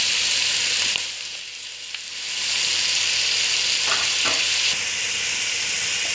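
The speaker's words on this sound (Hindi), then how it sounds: "चिकन और टमाटर को हमने अच्छी तरह से भून लिया है।" Chicken with tomato and coriander powder fries in a pan for haleem, giving a hissing sizzle that dips briefly and then swells back. A few spatula scrapes sound near the close.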